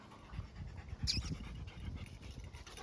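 A dog pants steadily and close by in rapid rhythmic breaths, with a brief higher squeak partway through.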